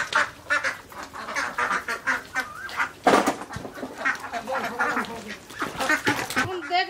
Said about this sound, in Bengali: হাঁসগুলা ঠিক একদম বাড়ি চিনে নিল, একবারে বাড়ি ঢুকে গেল